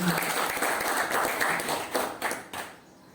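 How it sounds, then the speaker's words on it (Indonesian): Audience applause for a presenter at a school session on positive school culture: a steady wash of many hands clapping through most of the stretch, thinning into a few scattered claps before fading out. "Bapak Ibu beri aplaus dulu kepada kita"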